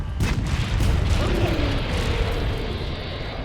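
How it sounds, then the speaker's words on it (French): A cannon fires in a video game, a deep, heavy boom with a long rumbling tail that fills the whole moment. "Oh il y a un canon encore"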